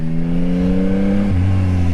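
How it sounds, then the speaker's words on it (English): A Yamaha XSR900 motorcycle engine revs close up, a steady loud tone that drops sharply in pitch partway through as the throttle eases. "There's a lot more engine under me, but it's also an engine with really good character"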